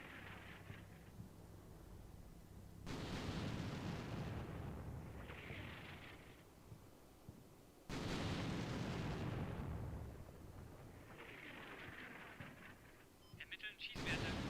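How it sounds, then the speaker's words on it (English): Artillery barrages in the video game Combat Mission Shock Force 2 land as two heavy, loud broadband blasts that roll into sustained rumbling, with quieter stretches of low rumble and hiss between the strikes. "All this artillery's coming on a line just completely off the target."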